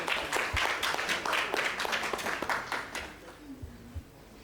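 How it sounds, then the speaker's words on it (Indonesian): An audience at an energy transition talk in Indonesia gives a round of applause that starts full and then thins into scattered claps as it dies away, heard at a fairly low level. "Boleh berikan tepuk tangan buat Mas Fajar Lismawan"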